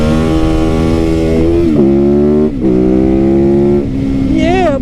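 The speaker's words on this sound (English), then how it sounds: "custom street legal Supermoto 2019 YZ450 FX" Custom street-legal 2019 Yamaha YZ450FX supermoto single-cylinder engine revving loudly and continuously on country back roads, its tone rising and dropping through several throttle blips, with a sharp climbing whine near the end.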